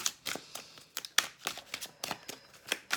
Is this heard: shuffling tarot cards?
yes